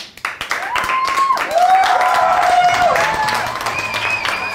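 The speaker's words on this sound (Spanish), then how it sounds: "fuerte el aplauso para El Bidón." Crowd applause at a comedy open mic game night, scattered clapping starting sharply and then continuing under a loud host voice and music tones throughout.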